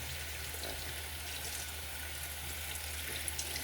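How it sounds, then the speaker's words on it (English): A tap runs steadily into a sink as a makeup sponge is rinsed, a continuous even hiss of flowing water with no voices. "And I just let the water run."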